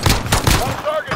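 Rapid gunshots in Call of Duty Warzone, several close cracks in quick succession within about a second, mixed with a voice speaking over them.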